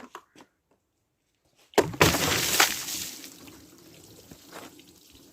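Water gushes and splashes while a blue car is washed, starting abruptly after a quiet moment and then settling into a softer, steady spray and trickle.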